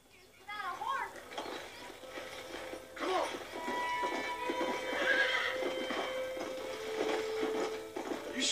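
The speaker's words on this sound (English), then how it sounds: "Let's see if we can't wrangle some horses." Horses whinny and neigh in Red Dead Redemption while hooves clip-clop over the scene, loud and close, with game voices talking over part of it.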